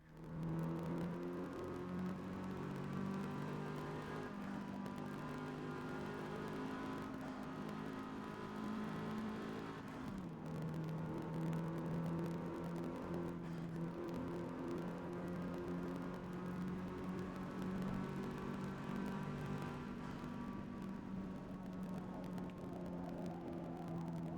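Engine of a car in the Forza Motorsport racing game, heard from cockpit view with automatic gears: a steady, loud droning hum holds throughout, dipping briefly around one shift before climbing again, with no talk over it.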